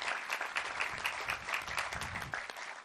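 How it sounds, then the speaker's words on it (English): Applause from an audience at the commissioning ceremony of the Navy submarine USS Illinois, a steady dense clapping of many hands sustained for about three seconds at moderate volume, with no voices over it. "let's give them all a round of applause"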